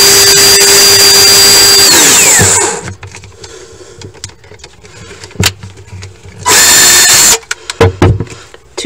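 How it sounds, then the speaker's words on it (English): A cordless power drill whines at speed, then slows and stops while drilling and driving screws inside a kitchen cabinet. Scattered knocks and handling sounds follow, then a second short burst of drilling. "two drills allows me to drill with one and screw with the other"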